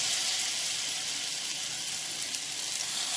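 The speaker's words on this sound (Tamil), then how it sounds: "இதை ஒவ்வொரு மீனாக எடுத்து தவா ஃப்ரை பண்ணிக்கலாம்" Seer fish sizzling in hot oil on a tawa, a steady bright hiss that runs evenly and close throughout with no talking.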